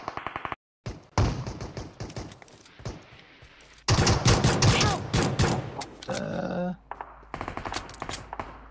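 Rapid bursts of gunfire from an online shooting game, mixing machine-gun rattles and single shots at varying loudness, with a player's voice talking in between.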